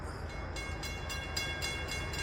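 A passenger train rolls slowly up to a level crossing, a steady loud rumble of wheels and engine with a faint rhythmic clatter and no voices.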